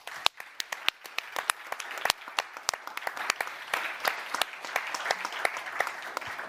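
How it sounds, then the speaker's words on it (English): An audience applauds startups at an award ceremony, with many hands clapping in a steady, crackling burst that rises and continues throughout, fairly close and without speech. "A big applause for all of them."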